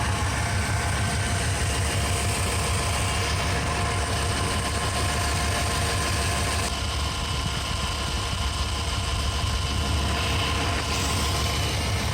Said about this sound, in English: So I started up the engine, revved it up, let it warm for a little bit